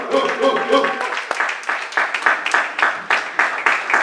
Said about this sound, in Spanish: Y eso merece un aplauso al Señor.